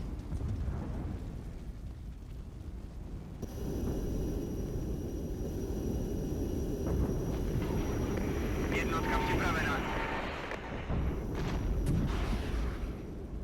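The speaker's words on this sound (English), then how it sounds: "We'll try first with the rockets." Rockets fire in the Regiments war strategy game as a dense, rumbling barrage of launches and booming impacts, loud and sustained, with a heavier roar building partway through.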